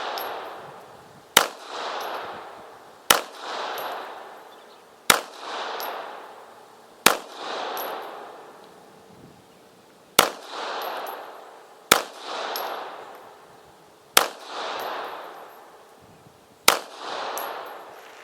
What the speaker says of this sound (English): I'll put a few more rounds through.